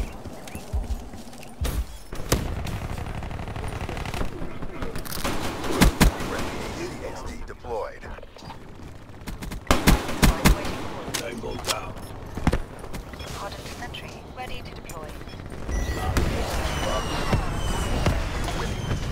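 Gunfire in Black Ops 3, sharp scattered shots and bursts at irregular intervals amid game effects, with a player talking over much of the action.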